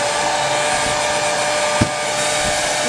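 Revlon compact 1875W hair dryer running on its low setting, a loud, steady whooshing fan roar with a constant motor hum throughout and a faint click partway through.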